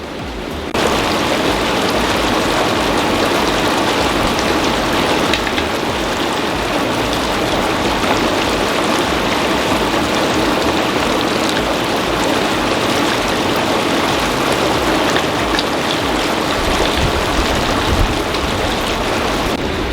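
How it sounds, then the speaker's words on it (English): Hot tub jets run continuously, churning and circulating the water with a dense, steady rushing hiss that stays constant and loud throughout, with no voices. "we're gonna let those jets run for about 5 to 10 minutes"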